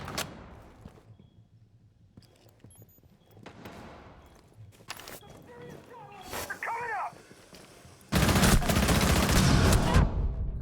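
Gunfire in a tactical shooter plays as sparse distant shots early, then a loud sustained burst of rapid fire near the end, with a commentator talking over much of it.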